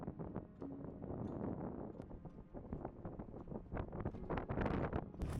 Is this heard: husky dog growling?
no